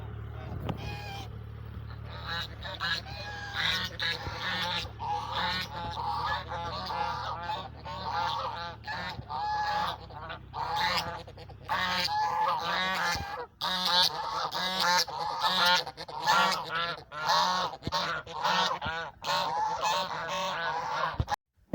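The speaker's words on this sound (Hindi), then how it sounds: "आपको इन बतखों का नज़ारा कराता हूँ और इनकी पुकार और इनकी आवाज़ों से भी लुत्फ़अंदोज़ करवाता" A flock of ducks by a canal near Jahania calls continuously, with dense overlapping honking quacks rising and falling for over twenty seconds. A low steady hum lies underneath during the first half.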